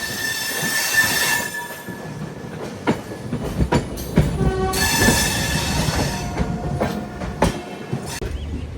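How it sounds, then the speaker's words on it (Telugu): A train pulled by a WAP-7 electric locomotive rolls into a station on the Bengaluru to Bhagalpur run, loud and close, with sharp wheel squeals, clanking wagons and a rumbling roll throughout, no voices. "లోపలికి ఏదో బండి వస్తుంది. వ్యాప్ 7 లోకోమోటివ్ అయితే పుల్ చేస్తుంది."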